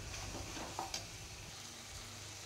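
Sambar masala powder frying in oil in a pan, giving a faint, even sizzle close by, with a couple of quick spoon scrapes and clicks near the middle and no talking.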